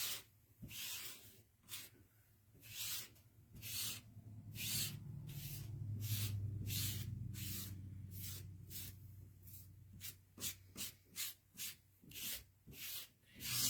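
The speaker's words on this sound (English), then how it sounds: "So we're just scraping the excess off." Hand scraping of excess material off a handmade Christmas decoration, a series of rasping strokes in an uneven rhythm, some long and smooth, others short and quick, close and fairly quiet.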